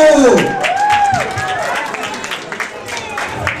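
An audience claps for a boy performer at a New Year's Eve show, steady applause filling the room while a voice speaks loudly over the start of it.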